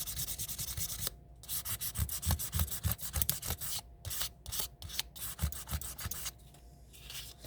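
Very fine sandpaper rubs a surface in close, quiet back-and-forth strokes, a soft scratchy rasp that pauses briefly between short runs.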